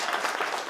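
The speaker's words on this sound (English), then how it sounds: "let us give a very good applause to the United States of America" A crowd at an international gathering applauds the United States of America, a short, steady burst of dense clapping.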